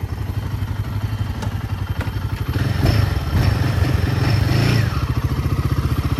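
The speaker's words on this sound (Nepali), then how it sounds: "अब कोल्ड स्टार्ट पनि गरिसक्यो मेरो बाइक चाहिँ" A 450 and a 411 motorcycle idling after a cold start, a steady close thumping single-cylinder putter that swells louder in the middle and then settles back.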